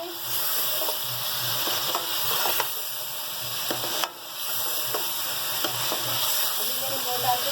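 Beef with roasted garam masala frying in a pan, a steady close sizzle with repeated scrapes and clicks of stirring, and one sharper knock partway through; no talking.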